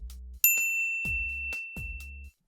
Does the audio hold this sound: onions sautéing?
no